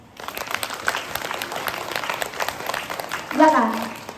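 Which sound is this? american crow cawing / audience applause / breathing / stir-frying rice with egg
audience applause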